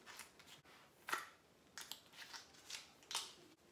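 A food packet of cooked coconut butter being torn open by hand, several short, crisp ripping and crinkling bursts close by and fairly faint, with no talk.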